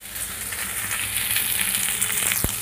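Pieces of young jackfruit fry in a pan for a jackfruit curry cooked with fat, giving a steady, close crackling sizzle with a brief sharp knock near the end.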